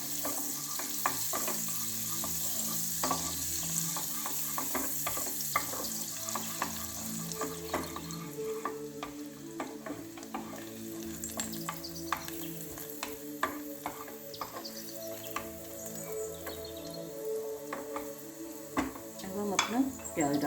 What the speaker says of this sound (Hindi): कुछ सेकंड के लिए सौते करेंगे गार्लिक को।